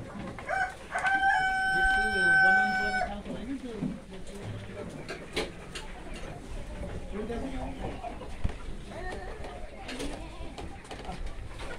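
A rooster crows once, loud and drawn out, among free-range chickens on a goat farm. Someone talks steadily throughout, and a few softer bird calls sound underneath.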